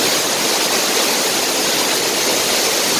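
The Jantur Inar waterfall in East Kalimantan roars as a loud, dense and unbroken wash of falling water, close by and with nothing else heard.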